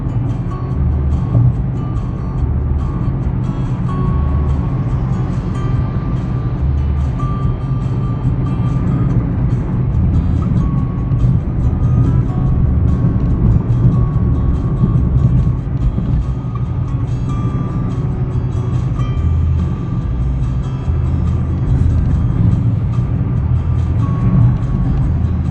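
A Mitsubishi Mirage cruising on a highway between 55 and 70 mph, heard as a steady, loud low road-and-engine drone from inside the cabin that holds even for the whole stretch, with no talking.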